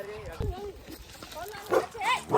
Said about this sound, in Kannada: ನಾಯಿ ನೋಡಿದ್ರೆ ಬಹು ಅಂತ ಬಗಳಾಕತ್ತೈತ್ರಿ